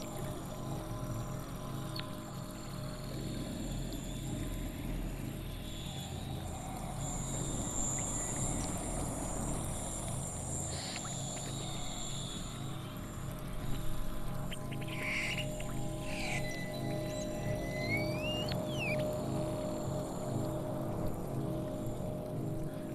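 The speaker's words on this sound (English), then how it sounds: "those bird-like sounds are coming from muscle" Bird-like electronic chirps and sweeping whistles from a muscle-controlled music performance with three players, rising in brief bursts over a dense, continuous low drone throughout.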